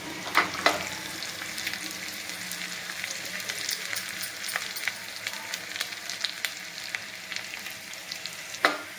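A Marathi phodni, oil tempering with torn curry leaves, crackles and sizzles close up as it is stirred, with steady frying hiss and a few sharp pops and spatters.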